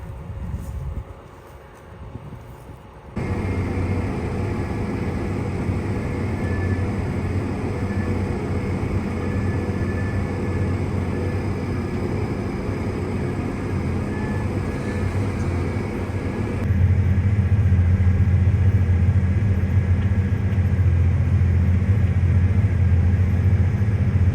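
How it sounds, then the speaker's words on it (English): A farm tractor pulls a disk ripper through compacted soil, making a steady, loud, close engine drone that rises in intensity partway through and continues unbroken with no speech. "these disc blades throw the dirt the opposite direction, so they pitch it that way"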